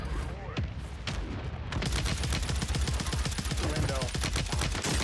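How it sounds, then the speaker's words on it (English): Friendly mortar strike in a Call of Duty video game: after a brief lull with scattered thuds, a loud, sustained barrage of rapid explosive impacts erupts and keeps pounding steadily until the end. "Friendly mortar strike inbound."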